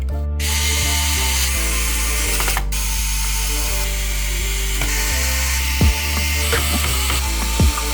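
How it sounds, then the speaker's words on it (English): Screws driven into a Lenovo ThinkCentre all-in-one computer with a ratcheting screwdriver, continuous close clicking and whirring with a few sharper ticks, loud and without speech. "let's install the screws"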